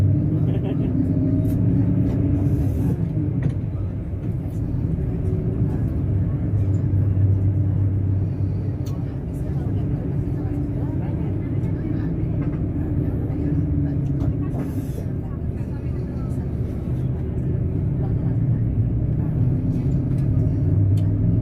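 Inside a car driving on the road in Bali, a steady, loud low engine and road rumble runs throughout, with people talking over it.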